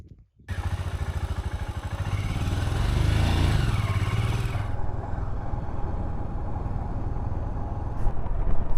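Motorcycle riding along a desert track in Namibia, the engine starting up suddenly then thrumming with a steady, loud pulsing beat, rising slightly in the middle, with wind rush and light clatter throughout.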